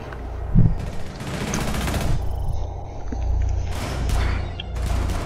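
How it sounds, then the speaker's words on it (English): Rapid automatic gunfire in a shooter video game crackles in loud bursts of fusillade, with pauses between volleys and a few heavier booms, close and dominant throughout. "He shot his teammate."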